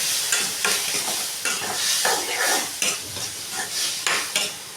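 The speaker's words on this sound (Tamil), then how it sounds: "ரெண்டையும் சேர்த்து நல்லா கிண்டிக்கலாம்." Tomatoes and onions stirred together in a hot pan, a spoon scraping in steady repeated strokes over a soft sizzle, close and fairly loud with no talking.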